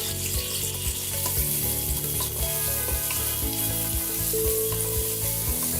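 Half a cup of chopped onions frying in oil in a pan for Bengali beef curry, a continuous bright sizzle with occasional crackles, steady and moderately loud, over a low rhythmic hum, with no talking.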